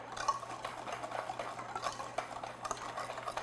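Dry ingredients with baking soda for black bottom cupcakes are stirred in a bowl, giving soft repeated scraping and swishing strokes, close and fairly quiet, with no talk.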